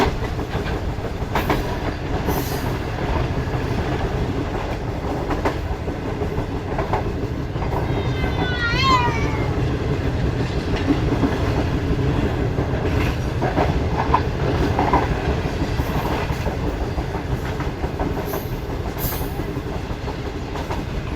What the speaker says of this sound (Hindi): तो ये न्यू छोर रेलवे स्टेशन पर पहुंच रही है ट्रेन इस वक्त हमारी।